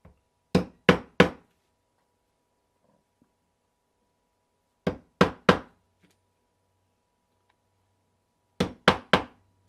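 Metal punch hammered through leather for wallet stitching holes, heard as three sharp triple-strike bursts of knocks separated by pauses, close and crisp in an otherwise quiet room.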